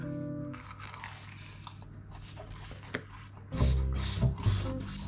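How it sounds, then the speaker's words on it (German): Someone bites into a frozen-style Babo beef salami pizza, then chews close to the mic with crunchy, moist bursts after a quiet stretch of low background hum. "Probieren wir mal die Salami direkt."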